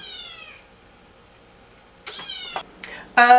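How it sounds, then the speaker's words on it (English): A cat meows indoors in a short series of calls, a drawn-out mew at first, then several sharper, louder meows close to the microphone after a quiet pause. "This cat, y'all."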